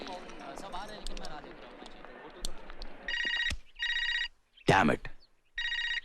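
A telephone bell rings in repeated bursts with short gaps, loud and close, after a stretch of talking and footsteps; a man mutters briefly between rings.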